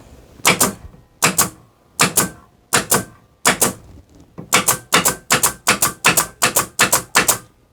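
Taiwanese-made 1022 air stapler firing pins, sharp close pneumatic snaps in an irregular run, some singly and some in quick pairs, about fifteen shots in all.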